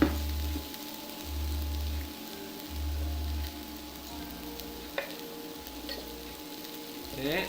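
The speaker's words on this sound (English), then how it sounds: "Beautiful onions. They're getting nice and caramelized now." Onions frying and caramelizing in a pan for bulgogi give off a soft, steady sizzle, close and fairly quiet, with an occasional light clink of stirring.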